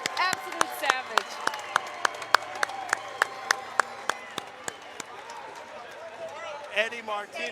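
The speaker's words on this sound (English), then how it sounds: "Eddie Martinez gets a standing ovation" A boxing match crowd applauds and cheers for a standing ovation, sharp individual claps ringing out over a steady roar of voices, with a commentator talking throughout.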